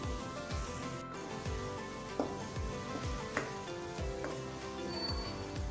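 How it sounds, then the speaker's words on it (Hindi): A spice masala for chicken tikka masala sizzles as it roasts in the pan. A steady crackle runs under rhythmic scraping stir strokes, close and moderately loud, with no voices. "मसाले को भूनते हुए 1 से 2 मिनट हो गए हैं।"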